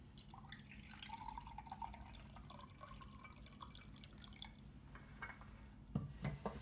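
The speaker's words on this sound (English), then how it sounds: "Let me pour some regular water into this cup." Regular water poured into a cup, a soft trickling and dripping stream with faint clinks of the container, fairly quiet and steady, ending in a few louder splashes.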